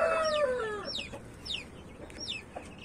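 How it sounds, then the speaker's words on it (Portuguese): A young rooster that has never had its spurs cut gives a drawn-out call, then a run of short rising clucks, fairly close and loud with no talk. "É um galo novo, né?"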